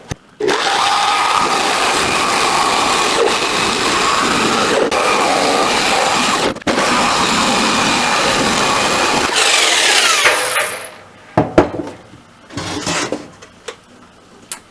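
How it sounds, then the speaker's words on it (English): An electric jigsaw cuts wood for a rabbit nesting box with a loud, steady buzzing rasp for about ten seconds and one brief hitch. It then winds down, followed by scattered clunks and handling noises. "I'm going to use the jigsaw, and I'm going to try to follow my little outline here"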